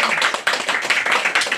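An audience at a clown's children's show claps in a dense burst of close, rapid hand claps that stays lively and even for the whole short stretch.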